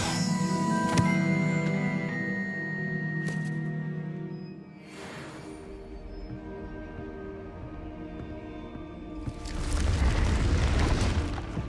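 The Revelio spell effect from the video game Hogwarts Legacy rings out as a shimmering magical whoosh with a booming low thump, tonal chimes and swelling sparkle, fading mid-clip before a second noisy surge rises near the end.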